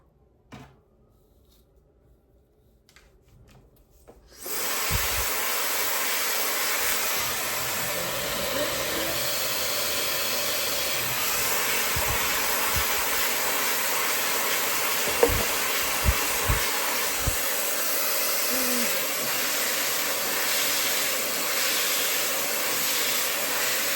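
A high-speed ionic hair dryer with a brushless motor switches on after a few quiet seconds and blows in a loud, steady whoosh while drying hair, with occasional soft knocks from handling.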